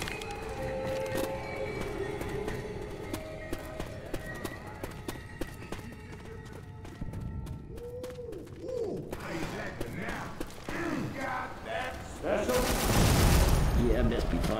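Rapid gunfire from a weapon in the video game Left 4 Dead 2 comes in quick repeated shots and bursts over running footsteps and game noise, growing louder and denser toward the end.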